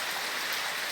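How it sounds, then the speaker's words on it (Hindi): Steady rain, the first of the season, falls in a soft, even hiss of countless drops with no breaks and no voices. "देखा बारिश पड़ रही है"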